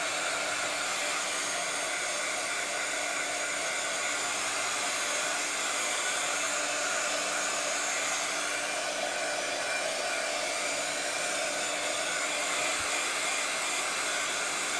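Hair dryer blowing inside a painted bathroom-scene picture frame to dry it before gluing pieces, a steady, loud, unbroken airy whir held for the whole stretch with no talking.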